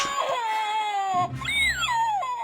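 A small child, George, cries in a wailing two-part sob, a rising then falling tonal whine lasting a couple of seconds, close and clear.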